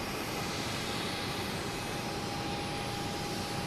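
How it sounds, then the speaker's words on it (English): A Southwest Boeing 737 jet taking off at Boston Logan Airport, heard as a steady, loud, continuous engine roar with no pauses or voices. "Southwest, clear for takeoff, heading to Denver on Route 9. Flight 1029, a 737."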